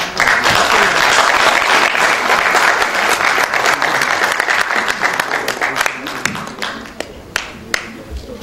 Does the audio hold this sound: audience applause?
yes